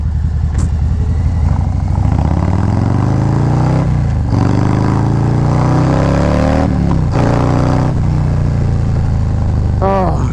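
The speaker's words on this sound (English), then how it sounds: "Just love the sound of this bike." A 2024 Harley-Davidson Low Rider ST motorcycle engine revs loudly and close through its exhaust, rising and falling pitch with several throttle blips and a sharp rev near the end.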